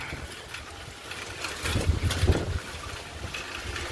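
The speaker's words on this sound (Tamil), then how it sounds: "காற்று ரொம்ப வளம் அடிக்குது." Strong wind on a 2 km mountain road buffets the microphone with low rumbling gusts, swelling louder in the middle before easing back to a steady roar.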